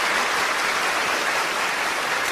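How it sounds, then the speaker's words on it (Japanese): Dense, steady clapping from a large audience at a beauty pageant, sustained and even throughout with no voices standing out. "ミスジャパネスクの皆さんにもう一度盛大な拍手をお願いします"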